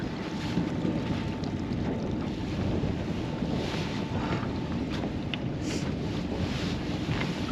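Wind blowing across a lake during a catfish fishing trip, a continuous low roaring buffet against the microphone with faint water lapping beneath and no talking.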